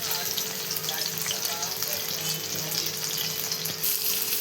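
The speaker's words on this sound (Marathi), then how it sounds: "आणि बघा एवढ्या छान मिरच्या तळल्या बघा" Green chilies fry in hot oil with a constant bright sizzle and crackle, close up and steady throughout, with no voices over it.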